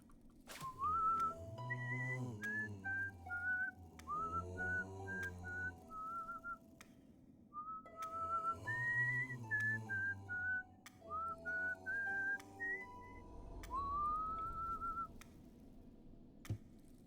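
A person whistles a bright, wavering melody in repeated phrases over a steady low hum of game music, sitting close and fairly loud throughout, during a Hollow Knight: Silksong speedrun.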